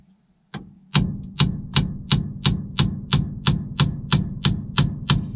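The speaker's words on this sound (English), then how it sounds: "this is where the hammer comes into play" A single knock, then a steady run of about a dozen sharp hammer taps at an even rhythm on a 1960s GM vehicle's steering wheel, close and fairly loud with nothing else around them.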